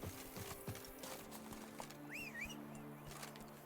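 Roach the horse in The Witcher 3: Wild Hunt, hooves clip-clopping steadily in the near field, with a short whinny rising over the hoofbeats partway through, under soft ambient game noise.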